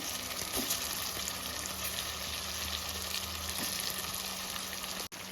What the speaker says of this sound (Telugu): ఇప్పుడు చాప ముక్కలన్నీ ఒక్కొక్కటిగా తాలింపులో వేసేసుకోవాలి